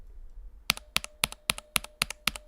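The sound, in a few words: typing on a Monokei Standard mechanical keyboard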